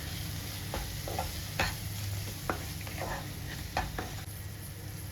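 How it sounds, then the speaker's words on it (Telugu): Mango pulihora rice is stirred and fried in oil in a pan, a steady soft sizzle broken by scattered scraping and tapping strokes from the spoon, with no speech. "ఇవన్నీ బాగా కలుపుకొని ఒక 1/2 మినిట్ ఉంచుకున్న తర్వాత స్టవ్ ఆఫ్ చేసేయండి."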